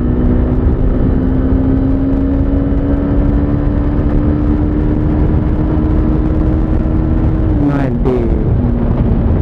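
A Hero Xtreme 160R motorcycle accelerates hard through its gears, the engine note holding a steady climbing drone before a sharp gear change near the end, loud and close throughout.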